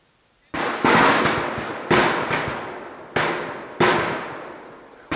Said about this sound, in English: And the gunfire.